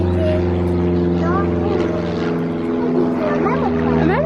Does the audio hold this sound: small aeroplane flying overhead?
yes